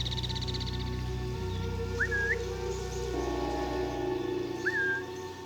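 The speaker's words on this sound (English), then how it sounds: "I'm whistling to try and get his attention." A character in Assassin's Creed Mirage gives two short rising whistles a few seconds apart to draw a guard's attention, clear above a steady hum of game ambience.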